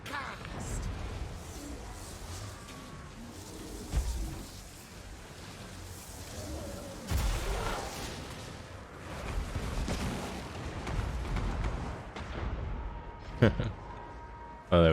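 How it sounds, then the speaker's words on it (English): A Doom Rocket launched by a Skaven Warlock Engineer in the strategy game Total War: Warhammer 2, heard as heavy booming blasts and artillery-like thuds over rumbling battle noise, with a sharp final impact. "Warlock engineer. fire off the Doom Rocket."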